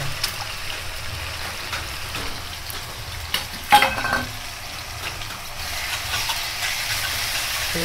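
Onion frying in hot oil in a pan for a mutton biryani: a steady, loud sizzle and hiss that keeps going throughout, with a brief clatter of stirring partway through.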